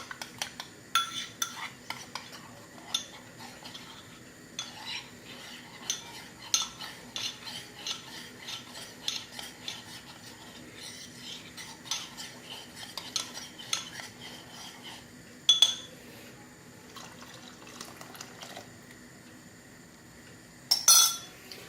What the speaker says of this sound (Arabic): كمان نقعد نقلبه تقريبا عشر دقايق بس على نار واطي